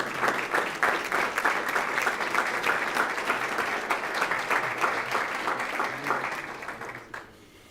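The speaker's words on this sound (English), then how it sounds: "How about a round of applause for our parents?" An audience applauds parents at a school board meeting, sustained clapping at moderate distance that fades out near the end.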